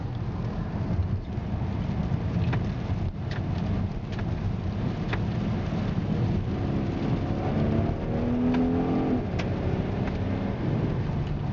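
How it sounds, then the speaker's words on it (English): Cabin drone of a 2012 Ford Fusion 3.5 Sport on a rural Vermont road, with steady road and wind roar and a brief rising engine whine as it rev-matches a downshift, no talking. "oh, it does rev match your downshifts."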